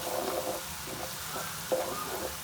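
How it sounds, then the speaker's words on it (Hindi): Masala spices frying in oil for bhindi masala give a soft, steady sizzle with a few faint stirs, quiet and close with no voices. "एक से 2 मिनट में मसाले को अच्छी तरह भून लेते हैं।"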